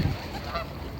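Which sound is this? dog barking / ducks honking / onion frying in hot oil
ducks honking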